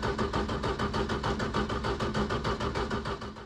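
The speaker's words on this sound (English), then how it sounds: "I just noticed that it's only turning over at like 200 and something RPM when I'm cranking." A Ford Escort engine cranking slowly at a low starter speed with sooted plugs, a steady rhythmic churning pulse about six or seven times a second that does not catch, heard close with no talking.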